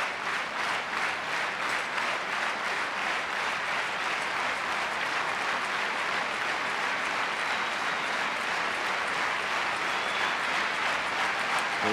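Spectators clap steadily and rhythmically for a high jumper at an athletics meet, a dense, continuous wash of applause filling the stadium throughout, loud and close with faint crowd murmur beneath.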